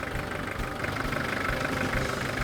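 A Citroën XM, revived after sitting abandoned since 2023, idles steadily with an even mid-to-low engine drone and a faint knocking texture, running alone without talk.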